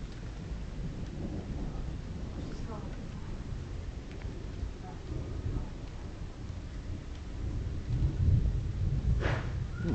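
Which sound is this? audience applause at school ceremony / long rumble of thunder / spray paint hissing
long rumble of thunder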